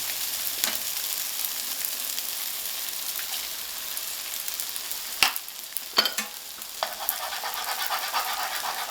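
Rice and a cracked egg sizzle in a pan as they are stir-fried, a continuous frying hiss broken by a few sharp scrapes and clacks of a utensil against the pan.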